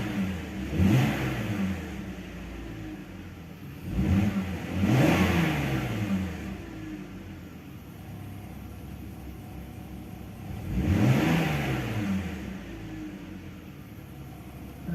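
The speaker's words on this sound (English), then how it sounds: "there was some misfiring or something with quite a hollow sound." A BMW E46 325i engine idles with its revs dipping and surging in slow waves every few seconds, the misfire giving a hollow, uneven note, heard close with no talking.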